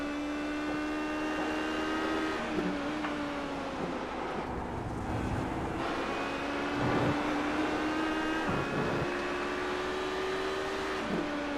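LMP1 prototype race car engine in iRacing at Le Mans, a steady high-pitched drone with rising harmonic sweeps as it passes, continuous and fairly loud throughout.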